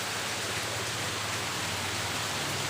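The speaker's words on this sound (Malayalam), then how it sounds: "നല്ല മഴയാണ്." Dense, steady hiss of heavy rain pouring down continuously, loud and close, with no voices.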